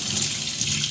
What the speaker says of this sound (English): and just run water over the crystal